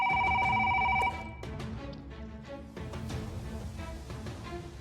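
A telephone rings with a loud electronic double-pulse tone in the opening second, then stops, leaving a room with background movement and soft household noise.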